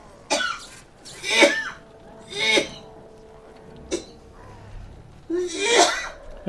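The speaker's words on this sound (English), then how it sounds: "this is where she's going to switch from coughing to sneezing" A female sneezes in about five sharp, separate bursts spaced a second or so apart, close and fairly loud against a quiet background.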